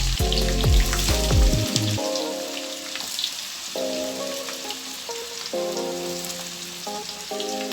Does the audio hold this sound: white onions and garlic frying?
yes